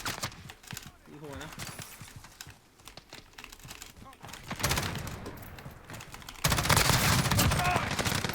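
Rapid automatic gunfire bursts from a Call of Duty: Modern Warfare match, fast-firing weapon rattling in clusters that grow louder and denser toward the end, with a player talking over parts of it.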